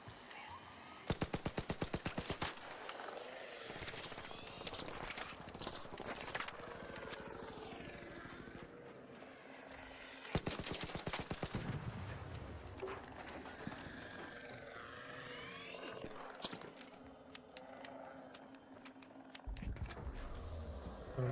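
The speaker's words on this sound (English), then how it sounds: "Are they shooting at me?" Gunfire and mechanical clatter in the video game Arc Raiders: sharp bursts of rapid shots at the start and again midway, with ratcheting, gear-like weapon sounds and a faint voice in between.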